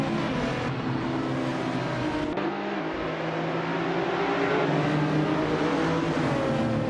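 Race cars launching at the start of a GT300-class race at Road Atlanta Short Track in a racing game, a dense roar of engines revving and accelerating together, loud and continuous.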